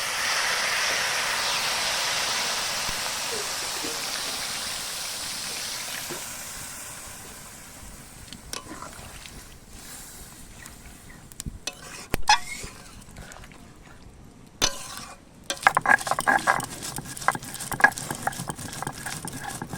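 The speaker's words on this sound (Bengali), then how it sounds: "এবার আমি তরকারিতে জল দিয়ে দিচ্ছি।" Water is poured into jackfruit curry cooking in a pan: a loud, steady rushing hiss fades over several seconds, then scattered clinks and stirring knocks follow, with no talking.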